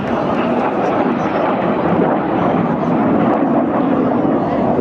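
Red Arrows jets roar overhead in a crossing display at the Clacton-on-Sea air show, a loud sustained rushing engine noise with wind buffeting the microphone.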